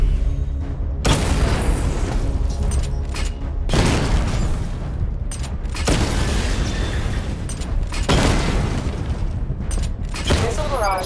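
Repeated heavy booms and explosive bursts as weapons destroy simulation targets in Batman: Arkham Knight, dense thundering blasts in several waves with brief quieter gaps between them.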